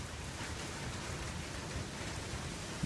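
Steady rain falls continuously, a soft even hiss of drops with no voices, fairly quiet and unchanging throughout.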